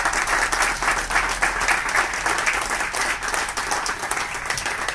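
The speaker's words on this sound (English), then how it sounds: "I want all of you to give a big round of applause for all of us." Sustained round of applause from an audience at a sustainability presentation event, dense steady clapping filling the room at fairly loud level throughout.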